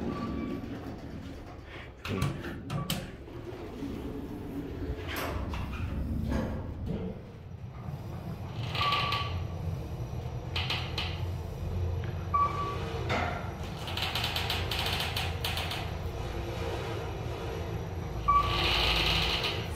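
A 2008 KONE EcoDisc traction elevator at Cascadia College's Mobius Hall in Bothell, Washington, grinding and humming steadily as the car travels, with intermittent scraping, clicks and rattles, heard from inside the cab at moderate level.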